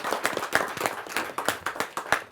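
Audience at a Hindi poetry gathering claps to welcome a guest poet, a lively burst of many hands with uneven peaks, fairly close and steady throughout.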